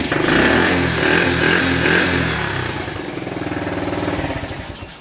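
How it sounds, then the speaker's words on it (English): A 399 ATV engine idles a little high and runs slightly boggy, with a steady, close, loud mechanical chug and a rhythmic low throb that never pauses. "The 399 ATV is back up and running."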